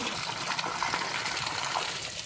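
Water poured from a 20-litre bucket at the base of garden plants, a steady gushing splash that runs continuously and fairly softly throughout.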